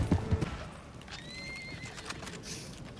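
A horse in the video game Red Dead Online gives a clear rising and falling whinny over a quick clatter of hooves, moderately close, with game ambience underneath and no talk.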